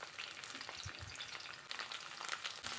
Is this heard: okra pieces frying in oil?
yes